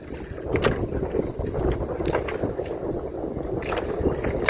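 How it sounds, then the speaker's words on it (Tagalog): Strong wind buffets the microphone at sea while fishing from a small boat, a continuous roaring gusty rush with water sloshing and occasional knocks, no talking. "Tsaka malakas ang hangin."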